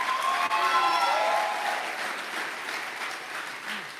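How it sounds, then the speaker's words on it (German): Audience applause for graduating students at a Torch graduation ceremony, a dense, loud wash of clapping with some crowd noise and faint voices mixed in, continuing steadily. "Ein Applaus für diese Studenten."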